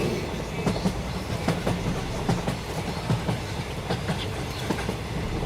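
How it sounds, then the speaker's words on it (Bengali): A moving train rumbles along under a steady clickety-clack of wheels over rail joints, continuous and fairly loud, as if heard from aboard, without any talk. "রবিবার শিয়ালদাহ থেকে ট্রেন ধরে রওনা দিলাম বাদলপুরে নরেনের কাছে যাব বলে"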